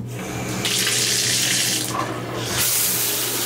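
Water pours steadily from a hotel shower faucet in Okinawa, a loud continuous hiss that surges and shifts in strength as the tap is adjusted, with no talking.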